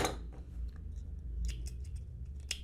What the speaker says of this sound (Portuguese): Tentei cortar essa linha.